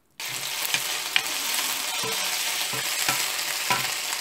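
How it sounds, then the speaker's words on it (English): Marinated beef pieces fry in about three tablespoons of hot oil in a pan, a loud steady sizzle starting abruptly, with occasional scrapes and taps of a utensil; no speech. "Now I'm going to add the beef, marinated beef pieces."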